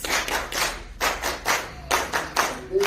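Audience applause at a political party event, clapping in several short bursts, moderately near, with no talk over it.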